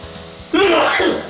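A single sharp, loud sneeze bursts out close by after a brief quiet moment.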